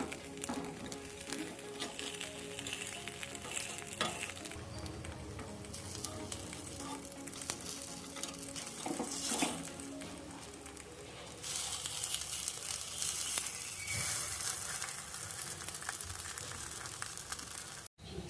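Rava appe (sooji appam) frying in an appe pan, a steady close sizzle with soft crackling that grows louder and brighter partway through, with no talking.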